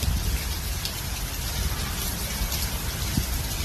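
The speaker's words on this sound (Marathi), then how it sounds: "किती पाऊस चालू आहे." Heavy rain pours down steadily, a dense, continuous hiss of falling water that stays loud and even throughout with no voices.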